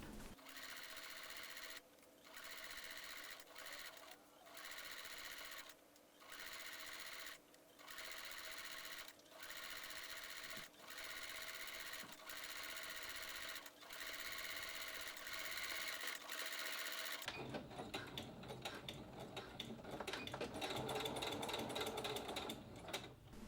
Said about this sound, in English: sew the yokes together, stitching exactly over the previous stitch line, 3/8 of an inch from the edge